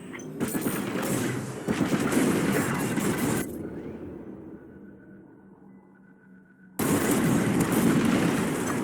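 Bombs exploding in a Star Wars Squadrons bombing run: loud, dense rumbling blasts and crackling fire for several seconds, a lull with a low hum, then another heavy burst of explosions.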